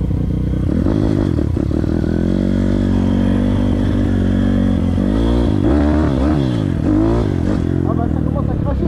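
A Kawasaki KLX 160 trail motorcycle with a faulty throttle idles and revs unevenly close by, a loud, rough engine note rising and falling in uneven bursts, with a voice briefly over it.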